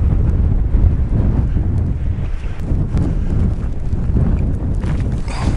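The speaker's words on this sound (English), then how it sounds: "It is stinking windy as heck up here." Strong wind roars steadily against the microphone at an abandoned home site on Route 66 in Arizona, a loud continuous rumbling buffet with gusty swells and no voices.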